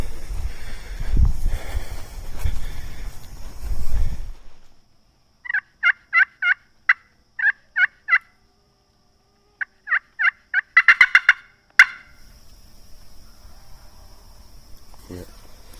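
Wild turkeys gobble at dawn on Florida public land, rattling bursts in several quick runs, some overlapping from at least two birds, with crickets chirping faintly between. Quiet talk and rustling come before the calls.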